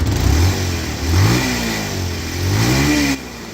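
A used two-wheeler engine is revved hard at full throttle three times, each loud, close rise in pitch falling back toward idle between bursts.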